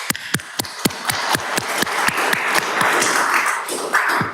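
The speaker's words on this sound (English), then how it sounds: "you deserve another round of applause" Applause at a city council meeting: a steady run of sharp individual claps, near and distinct, over a low bed of diffuse crowd noise, with no one speaking.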